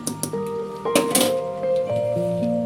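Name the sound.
stirring rice in a cooking pot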